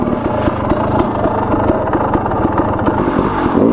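An enduro motorcycle engine running close up as the rider works throttle and clutch, a loud, continuous, rapid-firing mid-pitched thrum with slight swells in revs throughout.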